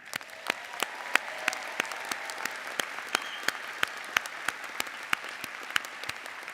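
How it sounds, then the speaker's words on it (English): A commencement audience at a Penn State Dickinson Law ceremony applauds the graduates, with steady, sustained clapping and sharp individual claps standing out at a roughly regular pace. "Please join me in applauding this exceptional group of Penn State"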